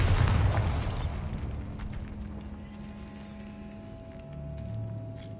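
A Bombarda spell detonates in a Harry Potter video game, a loud blast at the start that rolls into a long rumbling decay with low mechanical hum beneath.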